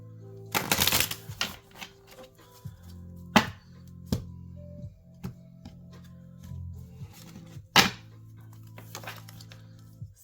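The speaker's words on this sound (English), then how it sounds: "Shuffle one time and cut the deck" Close, crisp bursts of tarot cards being shuffled, a few quick riffles separated by short pauses and softer handling sounds.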